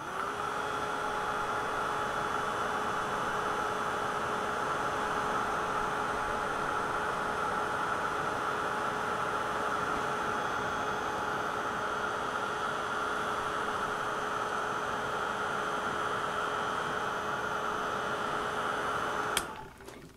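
A heat gun melting encaustic wax blows a loud, steady whooshing hum with a constant whine, running unbroken before it cuts off abruptly near the end.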